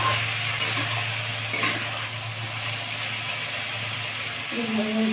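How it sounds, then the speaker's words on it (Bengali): Watermelon peel frying and being stirred in a pan, a continuous close sizzle with a low steady hum, two short scraping strokes early on and a brief tonal clink near the end. "এবার এটাকে একটু ভালো করে ভেজে নেব"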